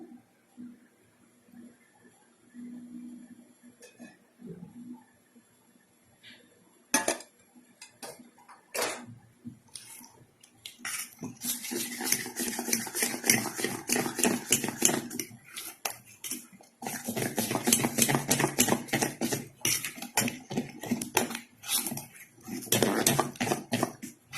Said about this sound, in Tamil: இப்போ நம்ம பேலன்ஸ் இருக்குது எல்லாத்தையும் கலந்துப்போம்.